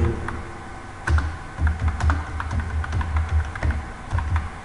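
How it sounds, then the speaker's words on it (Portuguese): Irregular, fairly loud clicks from a computer keyboard without accent keys, typed during a Python programming lesson, close up with short pauses between bursts of keystrokes and no talking. "Vou estar usando um teclado que não tem acentuação"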